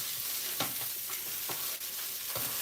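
Teriyaki pad thai noodles with salmon stir-frying in a pan, a steady quiet sizzle broken by several brief scraping and tossing strokes at a slow, uneven rhythm.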